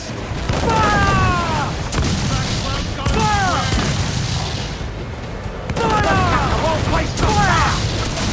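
Ship cannons fire in the Assassin's Creed 4 Black Flag naval battle: about five heavy booms land at irregular intervals while crew voices shout over the broadside noise and the sea.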